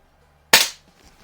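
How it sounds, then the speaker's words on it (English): A single sharp gunshot from a Browning Buck Mark pistol fitted with a red dot sight, fired outdoors while plinking; a loud crack with a brief decaying tail, isolated amid near silence. "This this buck mark is a lot of fun to shoot."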